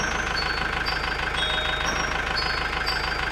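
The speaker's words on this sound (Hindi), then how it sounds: "गुल्ली ट्रैक्टर को लेकर जंगल की तरफ जाने लगता है" A cartoon tractor engine drones steadily as it heads toward a forest, an even, close mechanical hum with a faint knocking pulse and no pauses.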